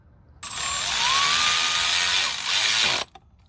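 A power tool whirs steadily for about two and a half seconds while tightening boost pipe bolts on an MK6 GTI, starting and stopping abruptly, close and fairly loud.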